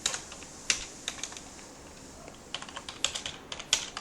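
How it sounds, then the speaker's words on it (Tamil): Rapid clicking of keys on a computer keyboard, with irregular bursts of keystrokes and short pauses, close and fairly quiet with no voices. "நீங்கள் டைப் பண்ணுவீங்களே"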